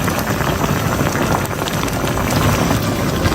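Fish broth boiling hard on high heat: a steady, loud, continuous bubbling and hissing roil with no pauses.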